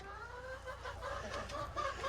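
Hens murmur and cluck softly inside a farm coop on a snowy day, several birds giving short, overlapping calls at low volume.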